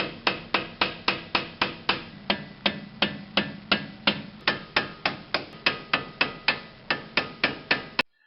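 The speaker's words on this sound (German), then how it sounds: "Das Federbein ist unten nun komplett lose und kann mit ein paar kräftigen Hammerschlägen abgetrieben werden." Steady series of about two dozen sharp metallic hammer blows driving a loosened strut out of the axle carrier on a VW Passat, evenly spaced and close, with brief ringing after each strike.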